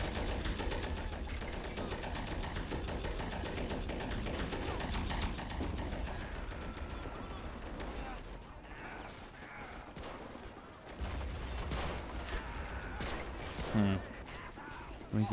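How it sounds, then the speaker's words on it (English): Steady gunfire and mortar blasts from a Pacific beach assault in the Rising Sun mod, a dense, continuous battle din with crackling shots and heavy booms throughout, one sharper impact near the end. "their mortars are really dealing a lot of damage to us"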